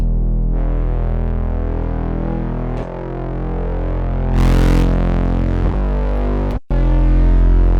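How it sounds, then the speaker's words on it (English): A deep, buzzing distorted Reese synth bass holds sustained notes, its gritty tone shifting and sweeping as it plays on loudly. "I can play also again with my distortion. Some other kinds of distortion."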